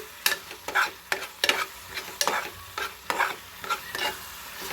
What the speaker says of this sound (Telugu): 10 minutes దీన్ని హై ఫ్లేమ్లో పెట్టుకొని కొంచెం పచ్చివాసన పోయే వరకు వేగనివ్వండి